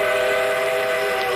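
A loud, continuous steam train whistle sounding from a departing train in an old Korean film, held at full strength without a break.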